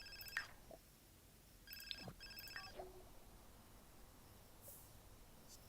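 A phone in the video game The Sims 4 gives an unusual, odd-sounding electronic ring, a few short bursts of tones with pauses between them, fairly faint over low background noise.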